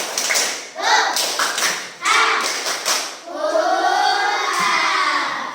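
Fourth-grade schoolchildren in a classroom perform a rhythmic patterned clap, bursts of loud unison claps and thumps alternating with their shouted chanting voices in a lively call-and-response rhythm.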